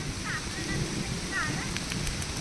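Rain falls steadily on harvested paddy fields in Konkan, a constant close hiss with a few faint chirps over it.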